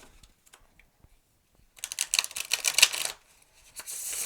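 After a few quiet handling taps, a dog-themed tarot deck is shuffled in one quick, rattling riffle lasting about a second, close by.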